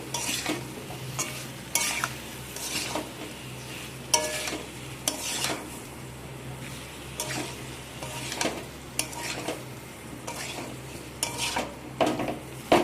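Green jackfruit is stirred and sautéed with spices in a pan, with a spoon scraping and clinking in a steady irregular rhythm over a faint continuous sizzle.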